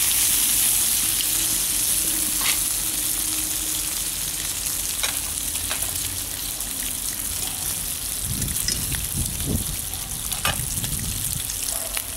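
Bacon fries on a sawdust-fuelled rocket stove with a loud, steady sizzling hiss, broken by scattered crackles and a cluster of low bumps and pops near the end.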